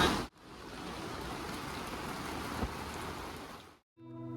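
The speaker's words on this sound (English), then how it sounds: "we call it raining season here in Nairobi, but I actually personally love the rain" Steady rain pours down at an outdoor market in Nairobi, a dense even hiss that runs continuously for several seconds before cutting off abruptly, with no voices.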